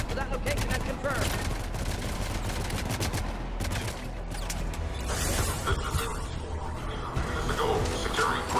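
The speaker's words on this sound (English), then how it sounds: "Taking enemy fire from position Teltec 4." A Mass Effect 3 firefight, with dense, continuous gunfire and mechanical clatter filling the scene, loud and sustained, with radio-style voices and battle chatter mixed in.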